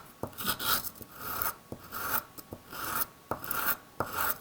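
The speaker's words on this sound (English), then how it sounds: "I like to put the sandpaper down and kind of move" Sandpaper rasps back and forth over a carved wooden spoon, with steady scratchy strokes repeating about once or twice a second, close up and moderately loud with no talking.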